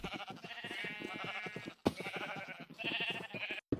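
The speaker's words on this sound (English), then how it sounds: "it will prevent my sheep herd from escaping" Sheep in the Minecraft video game bleat in a rapid, wavering series of calls, close and fairly steady, with a brief break midway and no talking.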